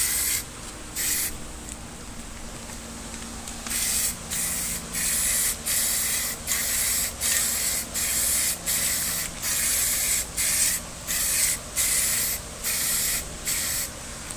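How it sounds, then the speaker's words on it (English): An aerosol spray can coats a truck door panel from a 1976 square body crew cab, loud close hissing bursts repeating in steady pulses of about a second each with short gaps, no talking. "It's hard to paint and hold a camera at the same time."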